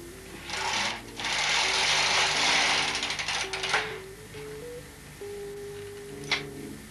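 A Bond knitting machine carriage is pushed across the needle bed for two rows, giving a close rasping, whirring slide in two sweeps followed by quieter clicks and a sharp tap.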